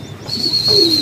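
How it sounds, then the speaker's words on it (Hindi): Pigeons coo softly in a low, throaty murmur that swells toward the end, with a faint high tone running steadily in the background. "ये मामे बीले के कबूतर है भाई सैफुल्ला, सामने जो कबूतर थे"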